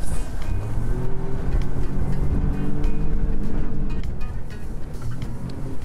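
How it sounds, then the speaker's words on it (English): A 2019 Highfield Ocean Master 390 boat powered by a 50 outboard motor runs through moderate chop, its engine drone loud and steady alongside rushing water and wind, with no voices. "we're in a decent-sized chop today, but it's just a fun boat to drive"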